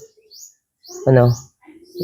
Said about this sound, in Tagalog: Pakinig nyo naman yung huni ng ibon.